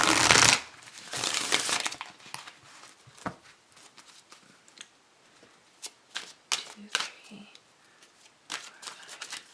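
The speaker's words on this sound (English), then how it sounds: "I'm going to pull 2 cards from this particular deck." Angel Answers oracle cards are shuffled and drawn from the deck: a loud burst of riffling at the start, then scattered soft card flicks and taps, close up with occasional talk.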